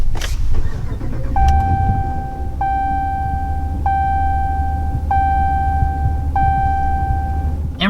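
A 2022 RAM 1500 Big Horn pickup started with its push button: a brief crank and catch, then a steady idle rumble under a series of repeated electronic chimes.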